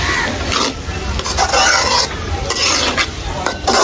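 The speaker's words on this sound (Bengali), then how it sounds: "ডাল দিয়ে মশলার সাথে এভাবে মিশিয়ে নেব।" Fried lentils being stirred with spices in a pan, a continuous loud sizzle with repeated scraping spoon strokes against the metal.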